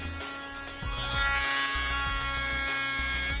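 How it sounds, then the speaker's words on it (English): An oscillating multi-tool makes plunge cuts into wall framing for a new window, giving a steady high buzzing whine that strengthens after a brief start and runs on continuously. "Here I'm cutting the corners with my multi-tool"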